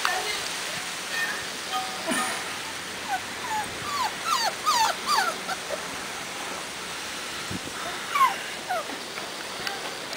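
Newborn puppies whimper and yip in short, high, thin cries scattered over a steady background hiss, some bunched together and others isolated, with people's voices faintly present.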